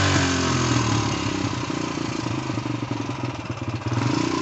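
A Suzuki DRZ125 motorcycle engine idles steadily after a kickstart, a close, continuous mid-pitched chug with light mechanical clatter and a faint uneven pulse throughout.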